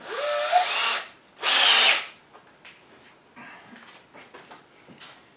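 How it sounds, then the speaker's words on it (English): Two loud bursts of a power drill boring into a tree trunk, each lasting about a second, followed by quieter scattered rustling and handling noises. "And get to drilling."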